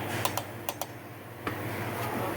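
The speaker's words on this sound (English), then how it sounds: "the way you adjust it is with this star wheel. Hear that clicking noise?" Sharp, light clicks sound in two quick pairs and then a single tick as the star wheel adjuster of the rear drum brake on a 2004 Ford Ranger is turned, close up over a steady hiss.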